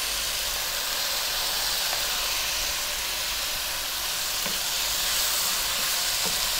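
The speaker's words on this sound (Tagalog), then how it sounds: "Lulutuin lang natin yung ating kamatis sandali hanggang lumabas yung kanyang katas" Chopped tomatoes sautéing with onion in a pan for Filipino ginisang misua at sardinas give off a steady, close, bright sizzle and hiss with faint stirring clicks, continuous and without talk.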